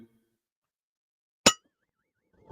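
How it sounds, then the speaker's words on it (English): A single bright bell ding rings out in near silence, sharp and brief, then quickly fades. "ding that bell"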